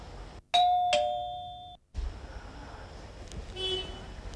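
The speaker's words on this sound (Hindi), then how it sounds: "घंटी बजाओ" A two-tone electronic doorbell chimes once, loud and close, followed by quiet room noise and a faint tone.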